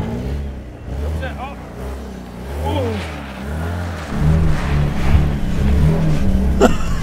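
Car revving hard while drifting, a loud engine rising and falling in repeated surges with squeals near the end, while people talk and shout excitedly over it.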